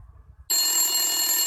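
A telephone bell rings loudly and continuously after a brief quiet start, close and steady with no talk over it.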